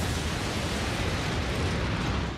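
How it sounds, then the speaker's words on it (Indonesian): A big explosion from a Transformers animated series, a dense, sustained roaring blast that fills the whole short stretch with loud, even rumbling noise. "Kali ini dalam ledakan besar."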